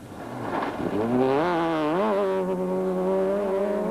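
A four-wheel drive rally car at the 2006 Tour Natal revs hard through its gears, its engine whine rising and falling in pitch as it accelerates from a distance toward the listener, with no voices.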